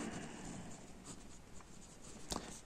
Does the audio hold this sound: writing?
yes